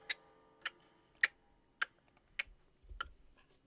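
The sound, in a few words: clock ticking in the video game Metaphor: ReFantazio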